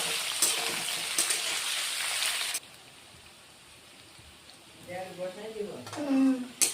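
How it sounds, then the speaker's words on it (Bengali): Potatoes and pointed gourd sizzle in hot oil for a few seconds. The frying then goes quiet, and a voice starts speaking. "আলু পটলটা অল্প ভেজে নিব তারপরে মশলা দিব"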